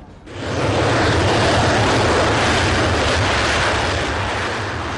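A Eurofighter Typhoon jet aircraft flying, its loud, steady broadband roar filling the air continuously after a brief quieter start, with no voices present.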